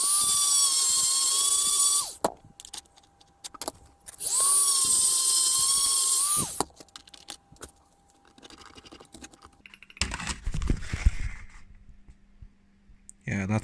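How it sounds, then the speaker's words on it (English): A handheld Dremel rotary tool grinds a flat spot into a metal part on an SBB280 snowblower, whining loudly in two steady bursts of about two seconds each. Clatter and handling noise from the workpiece follow. "I'm going to create another flat spot now, and I'm going to use my Dremel for this"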